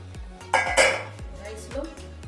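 Metal lid set onto a cooking pot of meal maker biryani, a few clanking and clinking hits close up with scraping in between, loud against a quiet kitchen.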